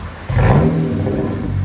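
A straight-piped 2010 BMW 135i with its 3.0-litre inline-six revs up close and loud, the raw exhaust jumping to a sustained rasping roar.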